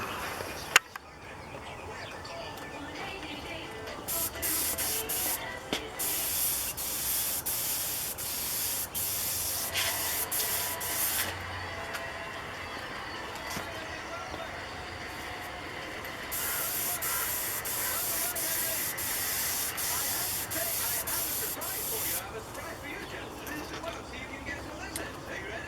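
PVA release agent is sprayed onto a waxed model aircraft fuselage, giving a hissing spray in several bursts of a few seconds each, close and fairly steady, with quieter gaps between passes.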